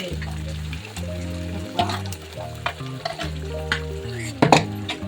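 Spoon stirring a tomato tokku mixture in a pan, with soft scraping strokes and a light sizzle in a repeating rhythm beneath steady background music.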